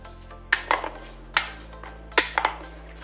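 Roti-style dough for gupchup being mixed in a bowl, giving a few sharp metallic clinks and knocks in three short clusters, fairly close, with quiet pauses between and no talking.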